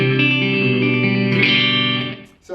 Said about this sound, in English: So I've got some kind of echo on it at the moment.